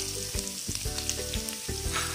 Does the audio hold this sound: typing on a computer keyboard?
no